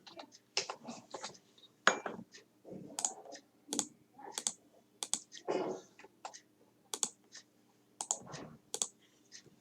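Quiet, close typing on a computer keyboard while working in Microsoft Word, with irregular clusters of crisp key clicks separated by short pauses and no one speaking.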